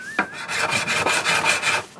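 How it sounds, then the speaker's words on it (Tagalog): Sandpaper rubbed over the tops of acoustic guitar frets during a setup, giving a close, steady rasping scrape in repeated back-and-forth strokes with no talking. "sinasanda natin yung top para matanggal yung mga gasgas."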